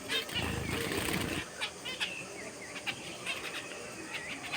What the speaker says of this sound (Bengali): টুকি দেখতেছি ছেলে পাখির মতো ডাকাডাকি করছে